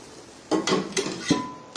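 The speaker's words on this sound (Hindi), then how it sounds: "जो पैन में है इसमें दाल डाल के मैं देखेंगे इस तरीके से दाल डाल के" Panchmel dal going into a pan, heard as a few quick close metallic clinks and scrapes of a spoon against the pan, about four short hits in under two seconds.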